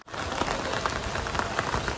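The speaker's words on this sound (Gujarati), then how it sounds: "હાલ જો આ વરસાદ પડી જ રહ્યો હ" Heavy rain pours steadily onto surfaces nearby, a dense, even patter with scattered louder drops and no voices.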